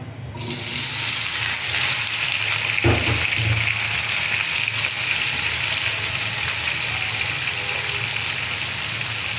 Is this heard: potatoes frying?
yes